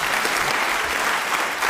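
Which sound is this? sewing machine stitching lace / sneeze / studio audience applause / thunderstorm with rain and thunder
studio audience applause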